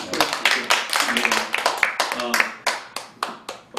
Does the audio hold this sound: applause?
yes